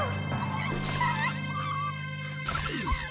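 Squawking bird from the video game Luigi's Mansion 2 HD, a few harsh calls over steady game music and effects, mixed with a player's voice.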